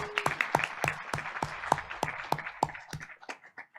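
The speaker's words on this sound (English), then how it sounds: "Let's give them a round of applause." A school board meeting audience claps for a group of elementary school students, a thin scattering of distinct hand claps in a quick uneven rhythm that tapers off after a few seconds.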